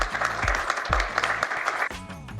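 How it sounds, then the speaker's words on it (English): An audience at a gathering gives a loud, dense burst of applause that holds steady and then eases off, with a low voice partly audible underneath. "You can clap, it's okay."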